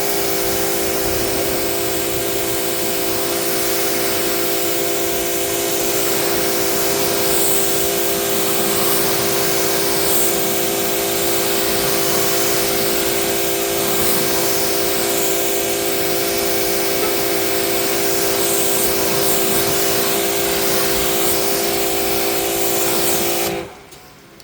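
Water spray rinsing soap off a car, a continuous loud hiss with a steady droning pump hum underneath, running unbroken before cutting off at the end.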